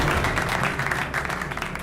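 A room of people applauding a retirement announcement, dense scattered clapping that holds steady briefly then thins slightly, with no talk over it.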